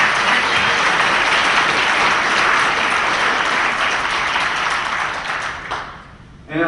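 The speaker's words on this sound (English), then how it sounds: "give a round of applause for all of you here today" Sustained audience applause at a We Are Change San Antonio gathering, loud and full for several seconds, then thinning and tapering off before a final brief burst near the end.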